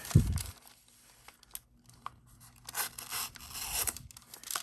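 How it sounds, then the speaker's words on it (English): A Demko AD 20.5 knife with a 3V steel clip point blade slices through two sheets of letter paper, giving crisp papery tearing and rustling strokes after an opening thump, close up with no talk. "You can just see it slicing through fairly easy."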